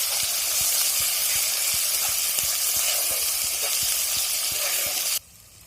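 Mixed green and dried chili paste is spooned into a hot pan while drumstick curry is being cooked, setting off a loud, steady hiss with a regular tapping stir. The sizzle cuts off abruptly near the end.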